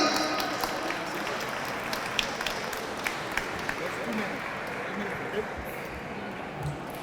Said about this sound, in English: Let's give a round of applause al Club Alma Yaucana por el premio